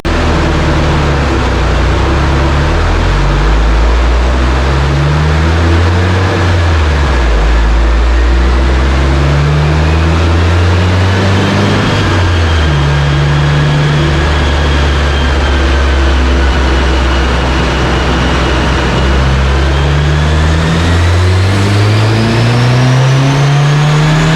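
A 2023 Subaru WRX with an ETS J-pipe and Stage 2 tune, on 99 octane fuel, runs a dyno pull at 16 psi boost. The engine is loud and continuous for over twenty seconds, revving up and down, then climbs in a long, steady rise.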